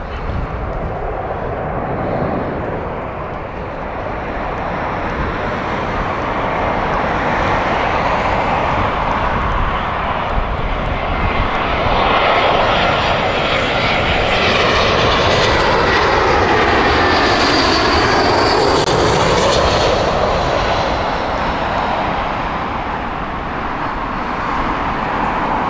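A jet airliner on the Valencia flight at Heathrow roars loudly and continuously, its engine noise swelling and sweeping in pitch as it passes close by, with no talk over it.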